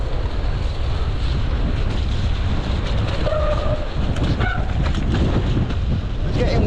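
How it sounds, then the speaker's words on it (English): Wind buffets a rider descending a slippery mountain bike trail on a hardtail, a constant loud roar of microphone wind noise and rumble throughout, with a brief faint voice partway through. "It's getting windier as I'm going further down"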